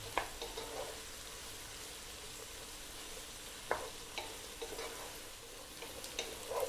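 Eggplant sautéing in a pan for a Greek-style vegetable dish, a steady soft sizzle broken by occasional scraping stirs and utensil clicks, close and fairly quiet with no talk.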